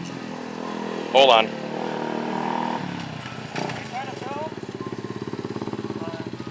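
A Kawasaki Mojave 250 ATV engine idles nearby with a steady pulsing putter that grows more distinct toward the end. Its idle adjustment is broken and it has a small gasket leak, and someone speaks briefly over it.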